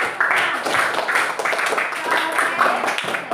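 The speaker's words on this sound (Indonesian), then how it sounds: "Oke, tepuk tangan dulu sekali lagi Om." A classroom of children clapping their hands in quick rhythmic bursts, near and lively, with voices speaking over the applause.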